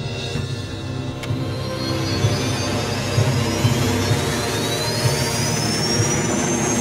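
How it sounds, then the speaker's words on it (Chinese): An aircraft takes off, a loud jet engine roar building into a whine whose pitch climbs steadily over a thick broadband rumble. "他们已经起飞了。"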